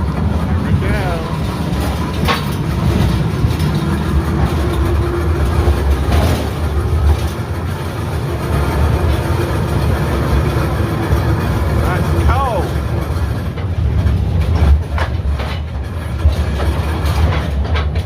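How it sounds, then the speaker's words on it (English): A coal mine train riding on rails underground in West Virginia, a continuous rumbling clatter with rhythmic clicks and metallic squeals, with people talking over the noise. "we're going to ride a coal train"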